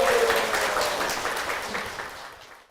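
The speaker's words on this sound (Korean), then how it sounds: "박수로 모실게요." Applause from a church audience fills the room as a guest is welcomed, a dense patter of clapping that starts strong and gradually fades away to quiet.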